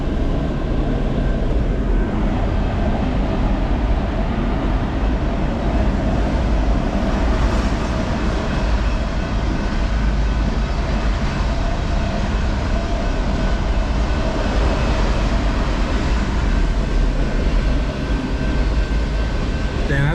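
A mile-long train rumbles past close by, heard from a car, a steady heavy roar of wheels and rail cars that continues unbroken for many seconds.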